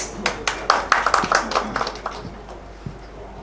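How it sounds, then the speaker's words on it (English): Audience clapping at a Manav Adhikar Raksha Samiti 8th anniversary event on a dais, a scattered burst of claps that thins out after about two seconds, moderately near. "Give a big round of applause."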